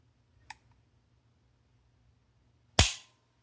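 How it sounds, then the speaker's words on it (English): A Makarov pistol is dry fired: a faint click, then after a pause the hammer falls with a single sharp, loud snap, close up with silence around it. "So just to show you that trigger action"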